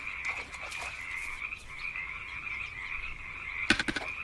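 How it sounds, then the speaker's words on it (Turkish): Frogs croaking in a fishing video game, a dense continuous chorus of chirping croaks with a few sharper bursts near the end. "Kurbağalar bağırmaya başladı bir anda."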